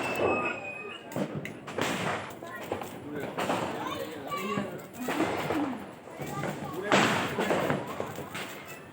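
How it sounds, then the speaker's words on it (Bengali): Firecrackers burst during Diwali celebrations in a residential quarter, a series of sharp irregular pops and thuds, some near and some farther off, under steady talk. "আর সাইডে দেখো প্রচুর পরিমাণে বাজি টাজি ফাটছে"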